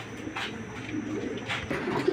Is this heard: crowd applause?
no